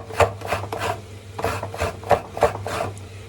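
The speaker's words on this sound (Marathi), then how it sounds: "ते खोबरं आपण अशा पद्धतीने किसून घ्यायचं." Someone grates fresh coconut by hand for finely grated coconut, making close, rhythmic rasping scrapes about three per second.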